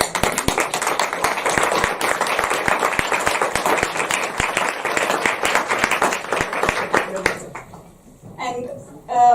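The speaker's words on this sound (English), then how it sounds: "will you join me in an applause here?" Audience applause at a talk on learning ecosystems, sustained crisp clapping from a group for about eight seconds with faint voices mixed in, tapering off as a voice begins at the end.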